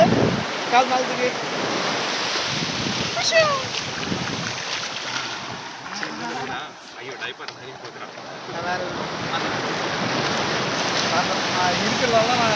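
Sea waves wash in on a sandy beach, a broad rushing surge with wind buffeting the microphone, while voices talk nearby over the continuous roar of the water.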